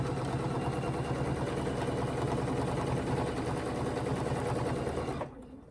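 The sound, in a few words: sewing machine quilting with ruler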